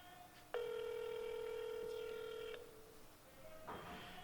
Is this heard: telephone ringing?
yes